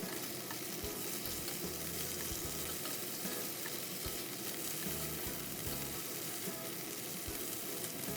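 Chicken stir-fried in a wok gives a continuous loud sizzle, with repeated scraping and knocking of the spatula against the pan in uneven bursts throughout.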